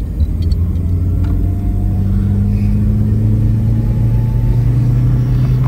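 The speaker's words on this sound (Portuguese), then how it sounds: "O motor tá muito redondinho," A brand-new, zero-kilometre Fiat Tempra engine runs smoothly while the car drives, giving a steady, loud low rumble with a faint rising tone and no voices.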